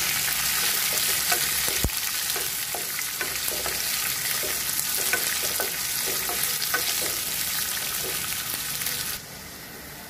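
Onions frying in a pan with curry leaves and coriander, a steady dense sizzle with light stirring scrapes, loud and close and alone throughout, ending with a sharp cut to a quieter sizzle near the end.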